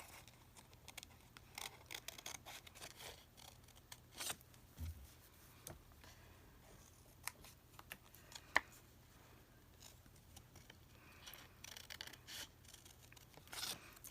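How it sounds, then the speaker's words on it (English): Scissors fussy-cutting paper letters at a craft table, quiet snips and soft paper rustles recurring irregularly, close by with no talk. "let's fussy cut around the letters a little bit."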